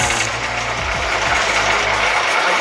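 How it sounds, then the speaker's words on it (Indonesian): Bamboo fed through a sanding machine at a village bamboo craft workshop, with a loud, continuous motorised grinding drone that holds steady from start to finish, close by and without talk. "Coba kita masukkan ke mesin amplas."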